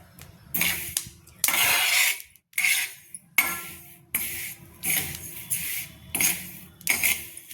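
A utensil scrapes and stirs flaxseed roasting in a pan over a low flame, giving a close run of rhythmic, gritty rasping strokes separated by short pauses.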